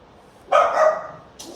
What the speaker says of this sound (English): Not sure why these dogs are barking again.